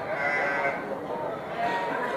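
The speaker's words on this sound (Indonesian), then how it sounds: "Ini domba daraan, calon domba bibitan ke depannya." Young female breeding sheep bleating continuously in a pen, several overlapping cries close by with a steady crowded farm din beneath.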